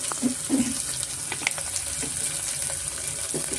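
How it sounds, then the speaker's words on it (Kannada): Medium-sized onion frying in a pan with oil, turmeric and salt for vegetable bread pulao, a faint steady sizzle with small crackles and a few soft pops, close by. "ಸ್ವಲ್ಪ ಈರುಳ್ಳಿ ಚೆನ್ನಾಗಿ ಸ್ವಲ್ಪ ಫ್ರೈ ಆಗಬೇಕು"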